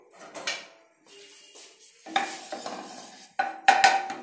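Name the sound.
hot oil sizzling in pan for chicken manchurian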